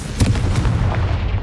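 A Confringo spell explosion in the video game Hogwarts Legacy, a loud booming blast with sharp bursts and a rumbling low tail.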